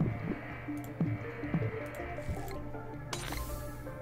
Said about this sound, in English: Oh my god, that's a lot of bubbles.